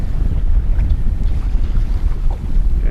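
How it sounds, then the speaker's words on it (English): Cold wind blows outdoors on a fishing boat out for walleye, a dense low rumble of gusts buffeting the microphone, loud and continuous with no voices. "It is windy today."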